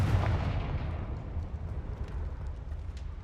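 A Confringo blasting spell explosion in Hogwarts Legacy, a heavy booming burst at the start that rolls off into a long rumbling decay, loud and close.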